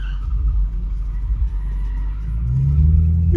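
An Audi R8 being drifted gives a deep, close engine rumble that swells into a rising rev toward the end, with no talk.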